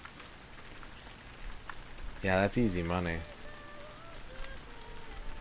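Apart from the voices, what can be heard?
rain in the N64 video game PGA European Tour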